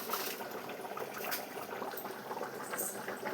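Rice boiling in a pot of water gives a steady, close bubbling and gurgling with soft pops, fairly quiet and with no voices.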